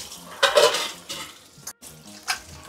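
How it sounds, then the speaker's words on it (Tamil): Dishes and pots clatter and clink in a few brief bursts while water swishes during hand dish washing, close by with short pauses between knocks. "ஒரு வழியாக பாத்திரம் எல்லாத்தையும் க்ளீன் பண்ணியாச்சு."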